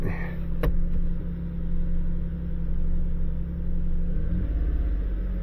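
A car engine idles with a steady low rumble and then starts to rev up toward 2500 RPM for an alternator charging test. The sound is close and loud, a short sharp click comes early, and no one speaks.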